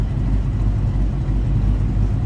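Deep, steady rumble from the idling 302 V8 of a 1966 Ford Mustang Coupe with a mild cam, low and throaty, continuous throughout.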